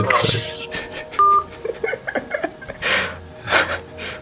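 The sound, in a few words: telephone dialing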